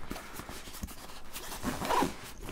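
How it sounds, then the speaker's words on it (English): A zipper is drawn shut on a compartment of a Thule Enroute camera backpack, a close, steady rasping pull that rises toward the end of a couple of seconds. "Zip that up."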